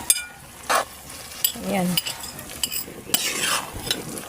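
Vegetables stirred in a cooking pan with a utensil, close scraping and clinking strokes over a soft sizzle, with a brief word spoken partway through.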